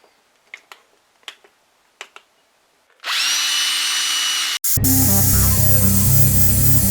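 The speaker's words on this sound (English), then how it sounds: "I'm going to turn it around and use the dry side to give it a final buff and remove any excess polish." A motorized buffing wheel polishes the plastic fuel tank of a 1982 Suzuki RM250 dirt bike, starting after a few sharp clicks with a loud steady whine, a brief cut, then a heavier continuous grinding hum.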